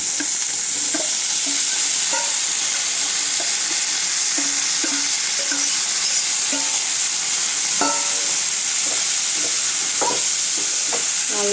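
Washed mushrooms sizzle loudly in a hot pan, a constant bright frying hiss under repeated scraping strokes of a spoon stirring them.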